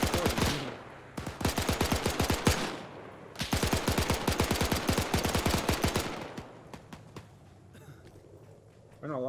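Rapid automatic gunfire in the Arma 3 combat game: two long sustained bursts of fast, loud, evenly spaced shots, then scattered fainter single reports as the shooting tapers off, with a voice speaking over parts of it.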